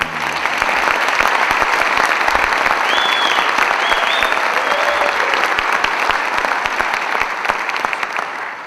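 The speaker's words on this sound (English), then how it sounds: "Can you give him one more round of applause?" A winter band concert audience gives a sustained, loud round of applause that fills the whole stretch evenly, with faint crowd noise mixed in.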